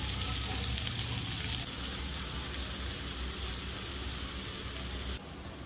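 Onion, green chili and curry leaves fry in butter with a steady, dense sizzle that holds close and even, then drops in level near the end.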